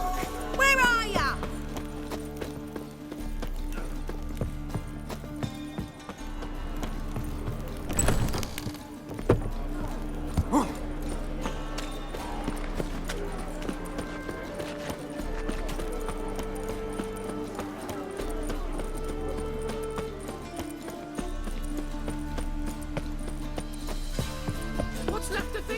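Horse hooves clip-clop steadily in The Witcher 3, running beneath a dense game soundtrack of music and ambience, with characters' voices speaking over it.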